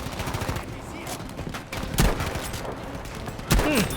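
Rapid gunfire in the video game Battlefield V, with sniper shots and a sharp burst near 2 seconds and another near 3.5 seconds over a busy battlefield din, with a voice speaking at times.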